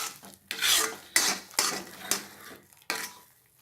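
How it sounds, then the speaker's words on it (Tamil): Thick Tirunelveli wheat halwa stirred and scraped around a pan with a utensil, several distinct scraping strokes at a brisk, uneven pace, close and fairly loud, with no talking. "இந்த மாதிரி நல்லா சுற்றி விட்டு கிண்டும்போது ரொம்ப சீக்கிரம் குக் ஆகிடும்."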